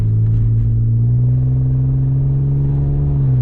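A car engine idles with a low, steady exhaust drone through a muffler patched with a can and straps, close up and fairly loud, holding an even rumble throughout.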